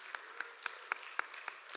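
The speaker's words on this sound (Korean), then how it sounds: "박수로 환영하도록 하겠습니다." Light, sparse clapping from a small group at a church service, with distinct claps spaced fairly evenly, fairly faint and without talking.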